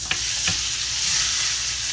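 A steak searing in a hot pan, a dense steady sizzle close by with a couple of sharp clatters near the start, no talk over it.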